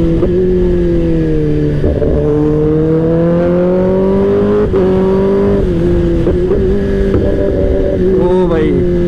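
A Kawasaki ZX-10R superbike engine drones at steady high revs, its pitch rising and falling slightly over a long continuous pass, loud and close with a few brief gear changes and a short rev flare near the end.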